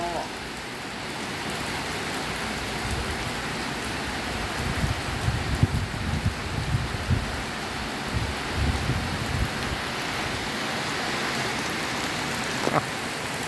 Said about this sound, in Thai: ฝนเริ่มเริ่มมาติดแล้วครับผม เขาเรียกว่าฝนเริ่มติดแล้ว